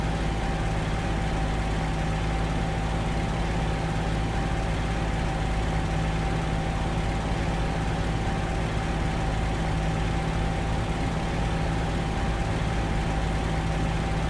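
P-40E-1 fighter engine in the Il-2 flight sim during high-speed taxiing, a steady loud droning hum with a constant tone that holds unchanged throughout, no voices.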